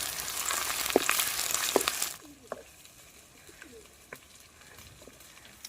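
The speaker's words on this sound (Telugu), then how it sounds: "అల్లం ఎల్లిపాయ పేస్ట్ వేసుకుందాం" Ginger garlic paste going into a hot pan gives a loud hiss of frying for about two seconds, which then drops to a faint sizzle with scattered small pops and clicks.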